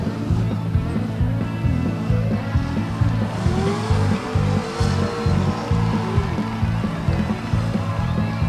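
Race cars at Stockton 99 Speedway in 1999, a steady dense roar of several engines circling the oval with faint tire noise, loud and continuous throughout.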